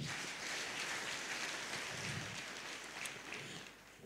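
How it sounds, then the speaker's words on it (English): Applause from the audience at a church leaders' meeting in Zambia, a steady dense clatter of clapping that holds for about four seconds before easing slightly at the end. "Clap for our sister."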